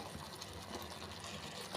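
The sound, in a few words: water poured into simmering drumstick kuzhambu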